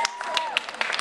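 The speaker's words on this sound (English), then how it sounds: "why don't we give Gino a big round of applause" Brief congregation applause at a christening in a church, scattered claps spread over about a second, with a few distinct sharp hits standing out above a quieter background.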